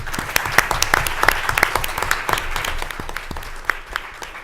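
An audience applauds, a dense patter of many hands with some louder individual claps standing out, steady throughout.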